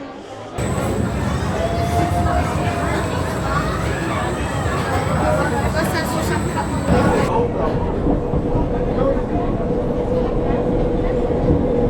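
A continuous rumbling amusement park ride train at Europa Park rolls past nearby with rattling wheels and a high squeal, over a busy crowd murmur and chatter.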